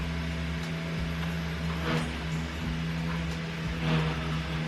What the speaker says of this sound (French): le bruit que vous entendez, ça doit être un Karcher ou un truc comme ça, chez les voisins là